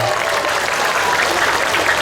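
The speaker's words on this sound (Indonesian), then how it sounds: "Makanya tepuk tangan dulu untuk panitia" A crowd gathered for a haul religious gathering in Kramat, Tegal, claps for the organizers in a brief, loud burst of continuous applause.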